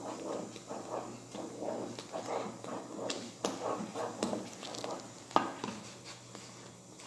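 Thick green corn porridge is stirred continuously in a pot with soft, rhythmic scraping and bubbling. The sound is moderately quiet, with a single sharper knock partway through.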